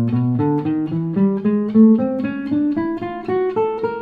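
Beginner guitar exercise picked with a plectrum, a steady run of about ten single notes stepping gradually upward, each clearly plucked and ringing, close and fairly loud with no talking.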